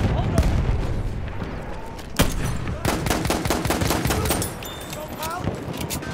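Enemy machine gun fire in the World War I shooter Battlefield 1, rapid bursts of gunfire with sharp cracks and distant booms layered over continuous battle noise, some bursts loud and close, others farther off.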